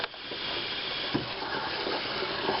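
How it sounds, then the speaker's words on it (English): Water running from a kitchen sink tap while pickles are being rinsed, a steady broadband rush of flowing water with small splashy bumps, close and continuous, no talking. "I want to turn the water on here"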